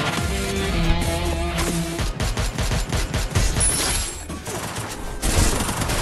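Video game gunfire: rapid automatic bursts and overlapping shots crackle almost continuously, loud and near, with brief gaps between volleys.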